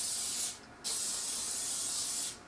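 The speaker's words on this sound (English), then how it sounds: "we're going to just spray a 9x13" Cooking spray hisses from a can into a 9x13 baking pan in two close, steady bursts separated by a short pause.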